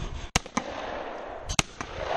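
Two sharp shotgun blasts at a skeet range, each a short loud crack with a brief tail, fired about a second apart over a faint outdoor background.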